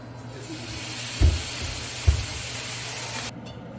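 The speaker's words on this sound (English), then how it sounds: "And bring the water to a boil." A pot of salted, sugared water for brine heats toward a boil, giving off a steady close hiss with two soft low thumps before the sound stops abruptly.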